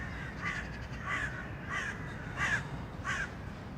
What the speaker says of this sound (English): I love that you can hear birds squawking there.